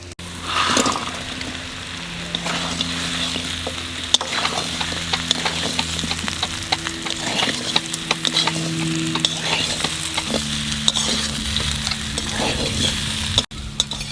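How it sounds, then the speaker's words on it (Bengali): Pieces of stingray fish with potatoes frying in spice paste, a constant loud sizzle broken by repeated scraping and clattering of a spatula being stirred, close and without voices. "মাছটা সুন্দর ভাজা হয়েছে, বাংলা মাছ দিয়ে একটু নেড়ে চেড়ে নিছি"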